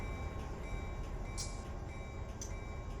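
A mixed manifest freight train in Run 8 Train Simulator rumbles steadily with low rolling noise and faint periodic ticks and clicks, continuous and close, without speech.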